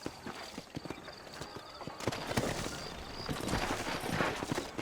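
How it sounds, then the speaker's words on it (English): Horses' hooves clip-clop steadily in the Red Dead Redemption video game, a busy overlapping clatter of several animals on the move that grows fuller and louder partway through. "You ain't gonna find sturdier horses than these in all of New Ulster."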